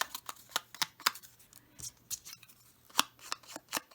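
Crisp paint chip paper tearing in a rapid series of short rips and crackles, close by and fairly quiet, with brief pauses between tears.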